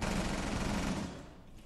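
A rapid burst of automatic gunfire in Rainbow Six Siege rattles on at moderate volume as a dense stream of shots, then tapers off toward the end.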